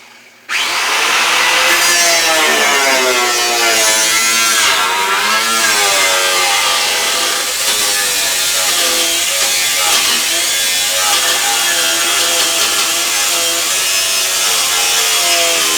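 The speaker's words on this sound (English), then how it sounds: "whatever the best grinding angle is, it throws sparks all over your arms" An angle grinder cuts into the sheet-metal trunk of a 1968 Chevrolet El Camino, starting abruptly and then holding a loud, close, continuous whine with wavering pitch as the disc bites.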